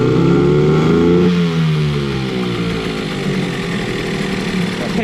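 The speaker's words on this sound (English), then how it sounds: "So we're going to blip the throttle as quick as we can," A Yamaha Malta 3hp outboard motor, freshly serviced with a new water pump, is blipped hard at the throttle. It gives a loud, close, buzzing rev that climbs, then drops back and settles into a steady drone.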